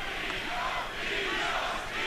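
Crowd at an MMA fight in the UCC Canada promotion roaring and cheering, a dense continuous wall of shouts and noise that stays loud throughout.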